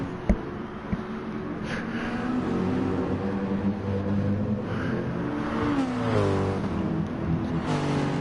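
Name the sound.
BMW race car V8 engine revving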